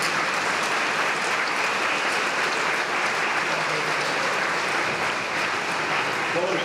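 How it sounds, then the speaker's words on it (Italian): Sustained applause from a crowd at a Catholic Mass for a feast day, dense and even clapping that carries on steadily for several seconds. "Facciamogli un applauso."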